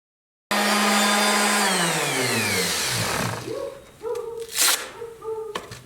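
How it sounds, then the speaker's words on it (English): A power tool runs loudly at close range as a wooden dresser is sanded, its whine sliding down in pitch as it winds down, followed by scattered knocks and short tonal sounds. "So let's get to sanding."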